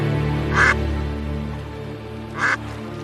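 A duck gives two quacks, the first early and the second near the end, over steady low rumbling background noise in a television episode scene.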